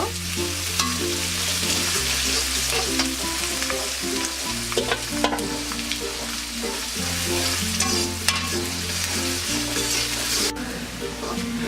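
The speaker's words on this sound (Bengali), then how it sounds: "পেঁয়াজটাকে ব্রাউন কালার করে ভেজে নেব" Chopped onion with bay leaves fries in oil and is stirred until brown for chicken rezala, with a continuous close sizzle and scraping of a spoon over steady background music.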